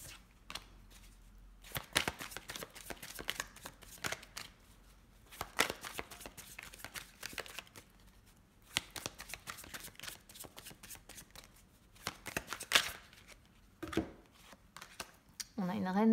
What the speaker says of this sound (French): Je ne vais pas laisser les cartes sauter. Je vais les mélanger et je vais les répartir